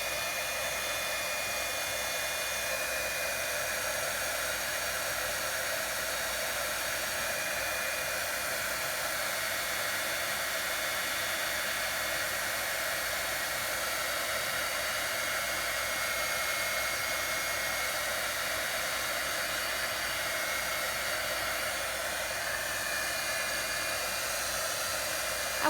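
A heat tool blows steadily on a layered craft postcard for a junk journal, a constant loud airy hiss that runs unbroken for the whole stretch with no talking.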